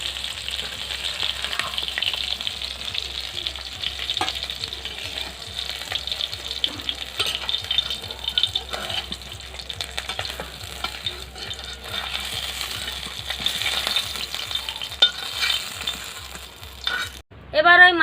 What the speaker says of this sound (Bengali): এইভাবে উল্টে পাল্টে মাছগুলো ভেজে নেব।